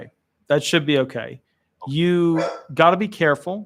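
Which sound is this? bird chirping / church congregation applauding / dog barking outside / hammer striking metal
dog barking outside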